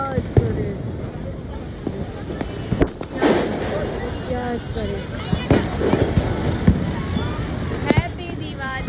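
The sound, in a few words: firecrackers bursting during Diwali celebrations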